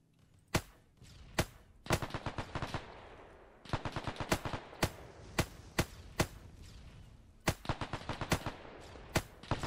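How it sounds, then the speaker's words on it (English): Sharp, loud rifle shots in ARMA 3, fired in irregular single cracks and quick bursts across a steady battlefield background, each with a short echoing tail, and no talking. "Now I literally am gonna snipe these guys from up here."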